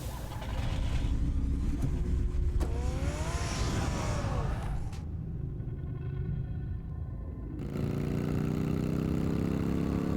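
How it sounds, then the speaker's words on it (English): A car engine runs in the Batman Telltale video game, a steady low rumble that holds loud for the whole stretch and shifts tone partway through, with no one talking. "Get the car ready, Альфред."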